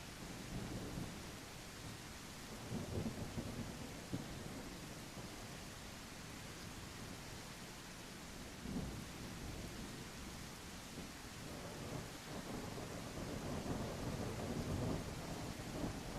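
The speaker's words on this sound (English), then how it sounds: "It's actually hard to like navigate when it's raining this much." Heavy, steady rain pours in a survival video game, with low rumbles of thunder rolling beneath it and swelling louder near the end; no one speaks.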